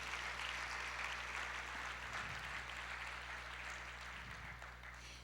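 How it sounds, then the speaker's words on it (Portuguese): A church congregation claps during a worship service, a broad and faint wash of hands that sounds distant and roomy, with a low electrical hum underneath and the clapping tapering off slightly toward the end. "Vamos aplaudir ao Senhor"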